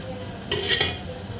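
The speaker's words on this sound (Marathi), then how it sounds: "आणि हे बेसन छान यामध्ये आपल्याला छान भाजून घ्यायचं आहे" A spoon scrapes and clinks against a pan while gram flour (besan) is stirred and dry-roasted for a curry, a couple of brief metallic strokes close by with no talking.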